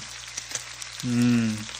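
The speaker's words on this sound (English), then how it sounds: "Now, let's get the bacon in the pan." Bacon strips hitting a hot frying pan: a few light taps and clinks, then a sudden loud hissing sizzle that swells and holds steady, close up with no talk.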